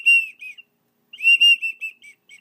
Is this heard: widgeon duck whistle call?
yes